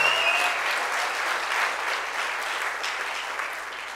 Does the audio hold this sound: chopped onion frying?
no